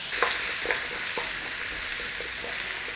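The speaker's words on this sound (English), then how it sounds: "So let's just put a little bit of cooking on those carrots." Carrots fry in a pan with a constant, close hiss of sizzling fat, punctuated by several soft taps and scrapes as they are stirred; no talking.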